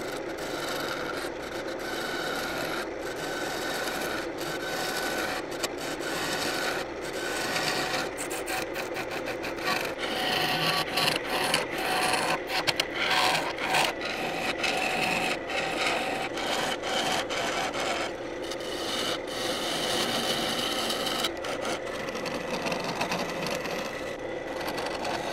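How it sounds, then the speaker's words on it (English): A scraper cuts continuously into a spinning segmented wooden vase on a lathe, producing a steady close rasping, scraping drone with brief changes in pressure throughout; no one speaks. "When I was using the scraper in there"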